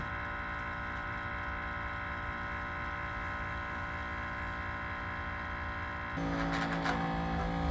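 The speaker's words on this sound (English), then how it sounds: "Once it starts, it's a sort of a low sound. You know, you can hear a motor sound." A Sparkel carbonator runs its motor while carbonating a bottle, giving a steady, low, even hum with tonal bands that holds throughout and shifts slightly louder and rougher near the end.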